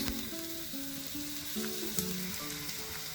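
Two medium onions, thinly sliced, frying in hot oil in a pan, a steady close sizzle with crackling pops and stirring scrapes, alongside some faint background tones.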